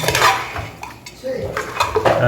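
A spoon scraping and clanking in a pot of chicken and bottle gourd gravy, close and fairly loud, with uneven stirring knocks over a few seconds.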